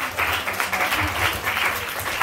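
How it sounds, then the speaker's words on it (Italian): An audience at a stand-up comedy show in Venice breaks into loud, sustained applause, a dense wash of clapping from a full room with faint crowd murmur. "fate un caloroso applauso per Francesca Bonollo!"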